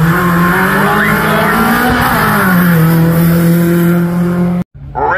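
Hillclimb race car with a 2.5 litre Millington alloy engine at Craigantlet, revving hard and loud up close with rising and falling engine pitch and some tyre squeal, cutting off abruptly near the end before a brief return.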